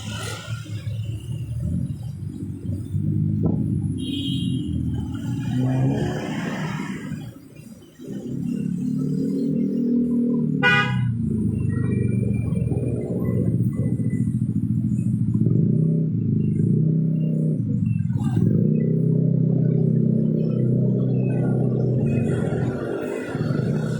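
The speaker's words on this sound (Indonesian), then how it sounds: "sekaligus di pinggir jalan memantau suasana lalu lintas." Traffic rumbles past a petrol station in Pare-pare, with engines roaring and motorbikes revving along a busy road; a brief clatter and a short high honk cut through the constant loud drone.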